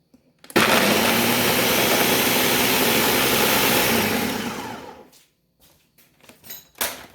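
Food processor grinding macadamia nut pesto: a loud, steady whirring grind runs for about four seconds, then winds down, followed by a few short bumps and clatters.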